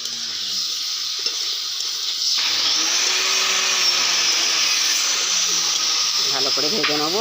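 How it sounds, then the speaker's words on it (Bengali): Radish, potato and cauliflower fry in a pan with a steady, loud broadband sizzle that grows denser partway through, and a brief voice enters near the end. "ভালো করে ভেজে নেবো"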